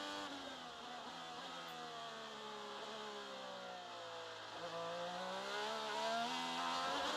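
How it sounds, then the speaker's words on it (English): Honda-powered IndyCar racing car on a test session at a desert circuit, its engine droning continuously as it passes, pitch sliding down and then climbing again, loud and steady with no talk. "Here's Marcus Ericsson, Delaware Life Honda. Go for a ride, have a listen."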